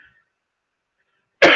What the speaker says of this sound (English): Damn this damn cough.